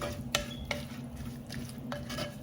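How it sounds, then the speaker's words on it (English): Bitter melon pickle is stirred with salt in a pot, soft close scraping with a few crisp utensil clicks against the pot in an irregular rhythm over a low background hum. "mix it again"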